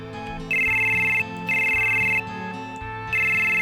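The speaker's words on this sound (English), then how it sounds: "It's crazy that Cloud can get cell phone reception in the middle of fucking nowhere inside this temple" A cell phone rings in the video game Final Fantasy VII, with loud, close electronic ring bursts repeating three times over steady in-game background music.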